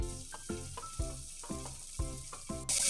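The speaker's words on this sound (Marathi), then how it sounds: "आता आपण त्यात हा बारीक केलेला कांदा परतून घ्यायचा आहे," Chopped onion and capsicum sauté in a hot pan, sizzling in regular surges roughly every half second as the pieces are tossed and stirred, with a sudden burst of hiss at the end.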